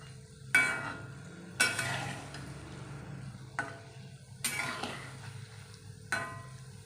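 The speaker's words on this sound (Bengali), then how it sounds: "কম কমই ভাজি চলো আস্তে আস্তে উল্টিয়ে নিই" Palm fruit fritters (taler bora) fry in a pan and are turned over, with several sharp separate clinks and scrapes of a utensil against the pan above a faint, quiet background.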